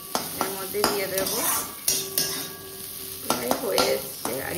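Onions fry in a pan with a steady sizzle, broken by repeated clatters and scrapes of a utensil stirring against the metal. A voice speaks intermittently over the cooking.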